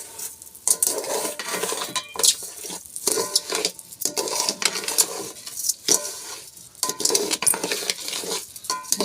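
Rice frying in ghee for shrimp biryani, stirred steadily in a pot: rhythmic scraping and metallic clinks of the spoon against the pan over a light sizzle, close and fairly loud, with no talking.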